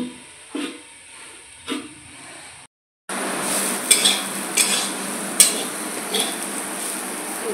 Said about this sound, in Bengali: ঘ্যাটকল ভাজা হয়ে গেছে